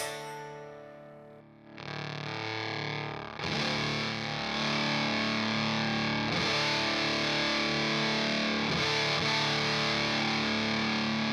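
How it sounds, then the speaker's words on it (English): Heavily distorted electric guitar chords through a Ramble FX Twin Bender fuzz pedal ring out thick and saturated, building from a quiet start into a loud, sustained, buzzing wall of fuzz. "That actually sounds like a decent fuzz sound there."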